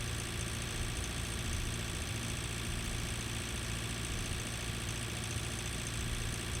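A heavy tractor engine drones steadily in Pure Farming 2018 while driving on the road, a constant low rumble with no pauses and no talk.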